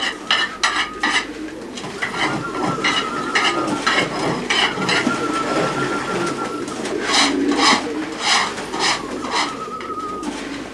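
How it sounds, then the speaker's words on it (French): Pigeons in an aviary during cleaning and feeding: steady cooing and fluttering bird activity mixed with clinking, scraping sounds of containers and tools, moderately loud and continuous, with no talk. "il faut nettoyer la volière, nourrir les oiseaux"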